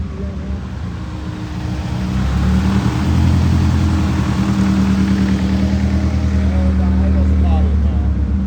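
A Chevy Cruze engine idles, then climbs at about two seconds into a loud, sustained higher-pitched rev that holds steady close by.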